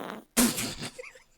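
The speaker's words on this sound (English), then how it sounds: "I will be playing the first fart sound effect" A played-back fart sound effect: one loud, airy burst of flatulence bursts in after a short quiet gap and trails off with sputtering tails, preceded by a faint earlier blip.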